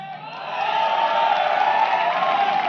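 A large crowd at a network marketing seminar stage event claps and cheers, a steady broad roar that builds within the first half-second and holds at full strength to the end.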